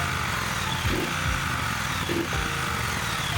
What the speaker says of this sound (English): we test the throttle assembly by revving up and down